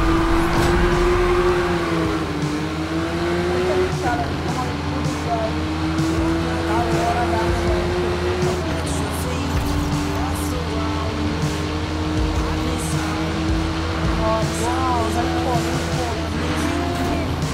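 Race cars in the video game Need for Speed Rivals: a loud, continuous engine roar with rising and falling pitch, occasional tire squeal and skidding throughout.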